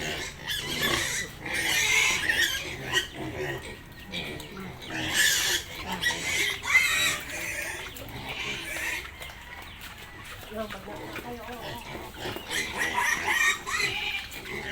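Pigs, including a young boar, grunt and squeal at feeding time on fruit: a busy, overlapping stream of close oinks and snuffles, with a fowl clucking nearby and people talking over them.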